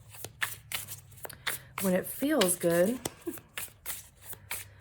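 Quick riffling bursts of a card deck being shuffled, close by, with a person speaking briefly in the middle.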